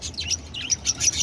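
Soft pigeon chirps and twittering repeat in quick bursts, close by in a pet store over a faint low background rumble.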